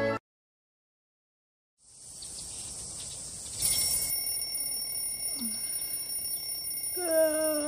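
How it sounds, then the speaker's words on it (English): An alarm clock rings steadily and fairly loud after a moment of silence, a continuous high electronic trill that runs on through the rest of the stretch with no voices over it. "Can you turn that alarm off?"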